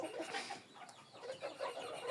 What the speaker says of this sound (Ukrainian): Є ще півні чубаті.